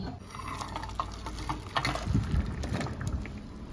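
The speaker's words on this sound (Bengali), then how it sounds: "এবার আমি এঁচোড়টাকে একটা স্ট্রেনারে ঢেলে জল ঝরিয়ে ঠান্ডা করে নেব।" Boiled jackfruit poured into a strainer, with a steady rush of draining water splashing close by, continuous and fairly full for a few seconds.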